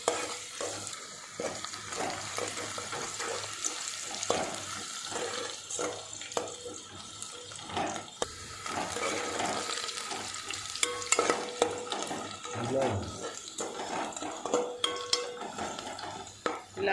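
Onions fry in oil until golden for a mutton curry, with steady sizzling and repeated scraping and stirring of a spatula in the pan, close and continuous with no voices.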